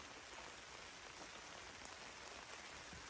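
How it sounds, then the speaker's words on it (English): Steady rain patters on a taut van awning close by, a continuous soft hiss of drops with no voices. "Sometimes video doesn't pick up rain very well unless it's like absolutely pouring."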